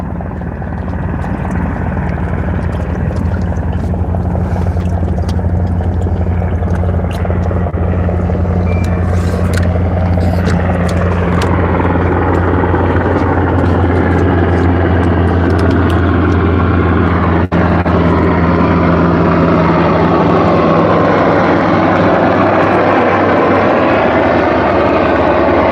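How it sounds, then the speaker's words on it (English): An aircraft, likely a helicopter, passes overhead during a fishing outing on a boat, a loud steady engine drone with a low rotor hum that swells and shifts in pitch, heard alone without talk. "oh, we're getting a flyover again."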